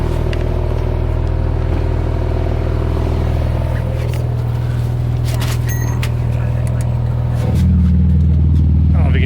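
Porsche 911 GT2 RS exhaust with its baffles opened, a loud, deep idle rumble that holds steady and then swells into a fuller, heavier drone near the end, recorded close up.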